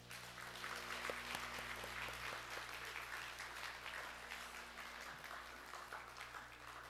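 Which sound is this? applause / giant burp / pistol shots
applause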